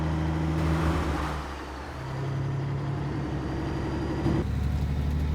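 A truck engine drones steadily while long hauling on a road in the Alaskan Road Truckers video game, a low continuous hum that swells and dips slightly as it rolls along.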